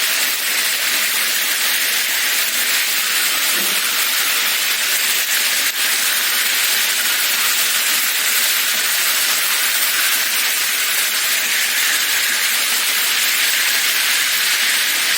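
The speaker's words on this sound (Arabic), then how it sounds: "دلوقتي اهو هنخليها تحمر على الوجهين زي ما انتم شايفين، تاخد لون كده التحمير" Slices of beef steak fry in a hot pan, giving a loud, steady sizzling hiss that runs unbroken for the whole stretch. A faint clink sounds briefly near the start.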